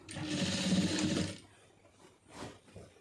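A sewing machine runs in a loud burst for about a second and a half, stitching fabric as part of a tailoring job done without an overlock machine, then stops, leaving quieter handling noise.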